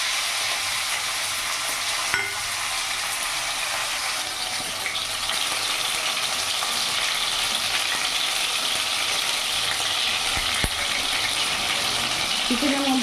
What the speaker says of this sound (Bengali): তেলটা গরম হয়ে গেছে। এরই মধ্যে আমি চিকেনটা দিয়ে দেবো।